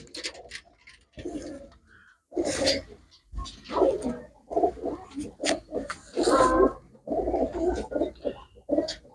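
Pigeons coo close up in a series of separate bursts with short pauses between them, fairly loud and clear.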